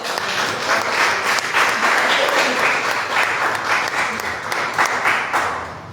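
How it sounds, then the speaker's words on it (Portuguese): A church congregation applauds in praise, steady dense clapping filling the room for the whole stretch, with a few voices mixed in. "Você pode dar mais um aplauso ao Senhor?"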